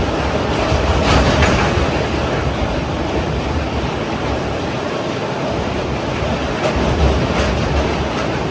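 An express train runs across a road-cum-rail bridge near Rajahmundry, heard from inside an AC coach as a loud, continuous rumbling roar with faint rhythmic clatter.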